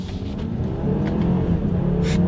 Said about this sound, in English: Pulling out onto the road now.